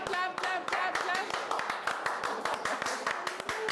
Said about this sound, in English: Clap, clap, clap, clap, clap, clap, clap, clap, clap.